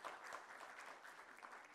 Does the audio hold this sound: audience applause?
yes